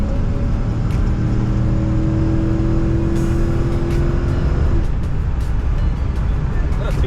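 An auction-bought car on the freeway accelerates hard from about 65 mph, its engine droning with a rising tonal whine under steady road and wind roar, then the pitch drops away as it eases off.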